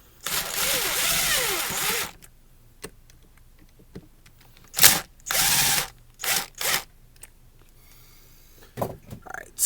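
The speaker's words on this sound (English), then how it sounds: "I'm going to take my impact driver here" An impact driver backs screws out of a Mainstays 9-inch fan in short, loud bursts: one long whirring run, then several brief rattling pulses separated by quiet pauses.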